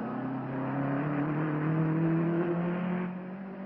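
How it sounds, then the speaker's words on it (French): A racing car on the circuit at the 1950s Glover Trophy gives a steady mid-distance engine whine. It rises slightly and then fades as the car passes, with no one talking. "voici la voiture de Sterling Moss qui semble être sortie du virage"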